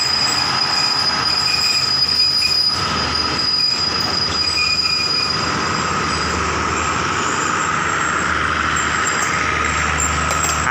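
A long Thai railway train hauled by Daewoo locomotives rolls past at close range, with a continuous loud rumble and high metallic wheel squeal persisting throughout, no speech.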